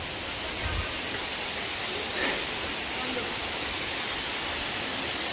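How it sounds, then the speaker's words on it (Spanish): The Salto de Agua Blanca waterfall in Constanza, Dominican Republic, gives a steady, broad rushing roar of falling water, heard at a moderate distance with a few soft thumps over it. "El salto de agua blanca."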